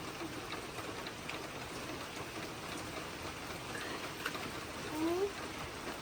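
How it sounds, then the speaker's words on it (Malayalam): Steady rain pouring outside, a dense even hiss with faint patter, heard from indoors at a low level. "പുറത്താണെങ്കിൽ നല്ല ശക്തിക്ക് മഴ പെയ്തുകൊണ്ടിരിക്കുക"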